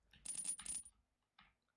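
Coin pickup chimes in The World's Hardest Game, two bright electronic dings in quick succession followed by a shorter, fainter third chime after a brief gap, clean with no talk.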